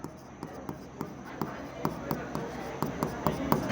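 Pen strokes and taps on paper as accounting entries are written out by hand, a steady series of short scratchy ticks beneath a voice that keeps talking.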